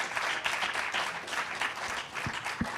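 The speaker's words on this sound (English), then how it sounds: "let's really have a round of applause." An audience at a March 2021 PubTalk event gives a round of applause. Steady, fairly soft clapping from many hands carries on evenly for the short stretch, with no voices over it.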